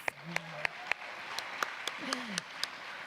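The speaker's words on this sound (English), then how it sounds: "Round of applause" A sparse, scattered round of applause at a Miss Cardinal City pageant, a handful of distinct claps spread out over a few seconds, with a voice speaking underneath.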